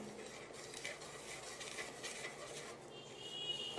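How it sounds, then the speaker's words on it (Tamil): A spoon scrapes steadily and softly through a thick, cooking thirupagam sweet mixture in a pan, with faint continuous clinks and a low sizzle underneath and no talking. "இந்த மாதிரி கொஞ்சம் கொஞ்சமாக கிளறிட்டு இருக்கணும்."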